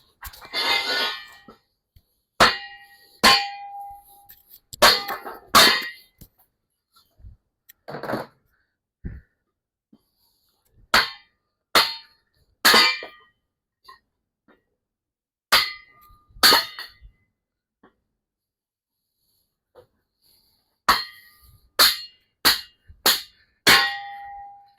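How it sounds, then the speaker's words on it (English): A kindling splitter chops a piece of firewood into smaller pieces in a backyard, producing sharp, close metallic clanks and knocks in irregular bursts of two or three strikes, separated by silent gaps. "Use my kindling splitter and split this down"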